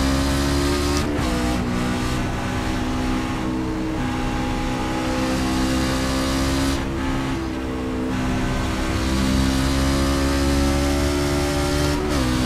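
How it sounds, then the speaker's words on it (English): Game engine roar of an iRacing fixed-setup race truck at Watkins Glen at steady high revs, with tires sliding and scrubbing across the surface, loud and continuous throughout. "You can hear the tires sliding on the ground."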